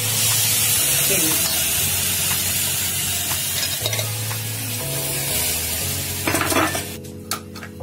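Broken wheat porridge (daliya) stirred with water in a pan on a gas stove, giving a steady scraping, swishing stir with light metal clinks from utensils and faint sizzling, close and continuous, ending in a few sharper knocks.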